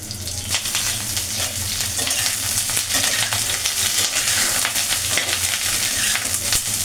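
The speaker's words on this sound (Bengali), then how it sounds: "সবজিগুলো ভেজে নেব।" Vegetables such as cabbage and cauliflower fry in hot mustard oil in a wok. A loud, continuous sizzle runs throughout, with crackling pops and stirring scrapes close up and no talking.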